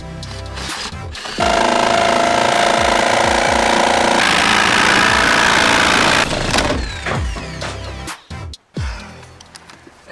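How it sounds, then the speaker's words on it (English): A power tool cuts a square opening through the metal roof of a Sprinter van for a Maxxair fan: a loud, harsh, rapid juddering that runs for several seconds, fades and stops, with clanks around it. "I'm basically just going to go edge to edge here and see if we can cut a square."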